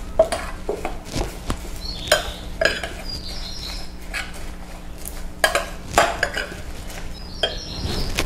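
A homemade coffee and cacao body scrub with cacao husk is stirred in a bowl, giving repeated close scraping and clinking strokes in an irregular rhythm, with faint birdsong outdoors behind it.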